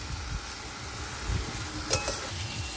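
Mushrooms cook down in a spiced masala in a pan, a soft continuous sizzle with low stirring thumps and one brief scrape.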